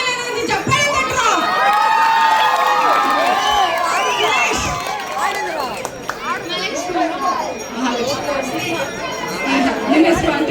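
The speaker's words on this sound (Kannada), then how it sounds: "ಚಪ್ಪಾಳೆ ತಟ್ಟೋ." Festival crowd at a group game cheering and shouting, with excited children's voices and overlapping chatter, loud and close throughout; distinct claps are hard to pick out.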